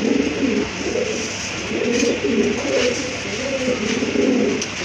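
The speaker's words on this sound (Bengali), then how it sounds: "এটা হচ্ছে আপনার সুপার মিলি কবুতর" Super mili pigeons coo steadily in a repeating, rolling series of soft throaty calls, close by and continuous, with a faint hiss of background noise beneath.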